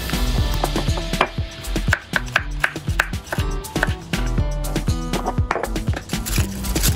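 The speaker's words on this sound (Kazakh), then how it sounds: "Мен осылай ірілеу етіп турап қосамын." Garlic being chopped coarsely with a knife on a board, a rapid run of sharp, close knocks in an uneven rhythm.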